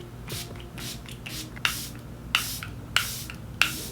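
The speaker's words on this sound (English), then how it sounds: "She goes in with 2 setting sprays, so I'm gonna use 2 as well." Charlotte Tilbury and Urban Decay All Nighter setting sprays are misted onto a face as several short, soft hissing spritzes, some quick and some longer, close and fairly quiet, with rustling between them.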